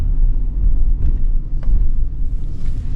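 Steady low rumble of an idling Chevy Express van's 6.6L V8 engine, loud and continuous throughout with no talking.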